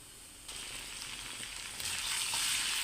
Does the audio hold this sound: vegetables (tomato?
yes